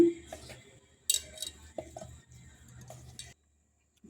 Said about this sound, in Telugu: ముందు ఇలా స్మాష్ చేసేసుకోవాలండి బాగా బంగాళదుంపలని